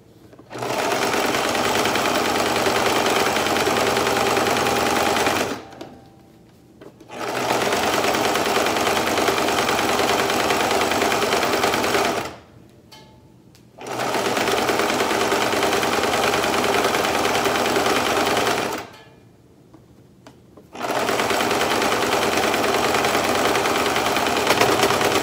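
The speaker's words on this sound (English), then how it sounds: "so now I just have to sew this tie together." A sewing machine back-stitching a fabric mask tie runs in four long steady bursts of close, loud motor whir, separated by short pauses.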